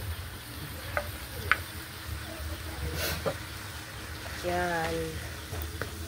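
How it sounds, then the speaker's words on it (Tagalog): Leftover onions sautéing in a pan give a soft, close sizzle broken by brief stirring scrapes and clinks, while a voice speaks briefly over the cooking. "Ilagay natin yung sibuyas na natira."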